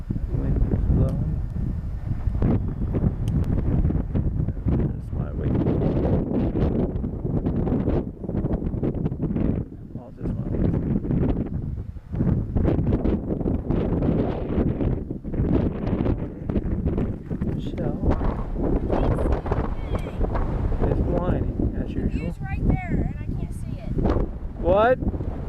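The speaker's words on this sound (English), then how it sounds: "The wind is blowing." Strong wind blows across an open outdoor landscape in Maine, a loud continuous roar buffeting the microphone in gusts, with voices talking faintly underneath.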